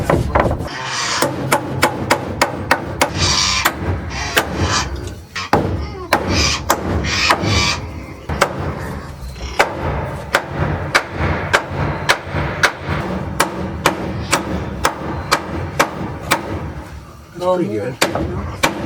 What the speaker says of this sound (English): There might be a hammer involved.